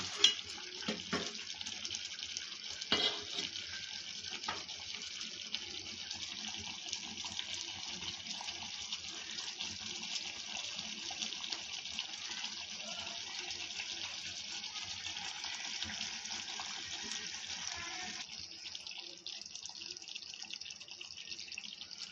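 Chicken korma masala frying in ghee gives a steady hissing sizzle, close and continuous, with a few clinks of a spoon early on and no talk.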